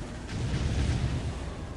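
A dense, rumbling wash of explosions from a large 3 vs 3 Dawn of War Ultimate Apocalypse battle between Tau, Space Marines and Imperial Guard, continuous and heavy for under two seconds.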